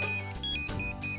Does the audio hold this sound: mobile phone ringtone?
yes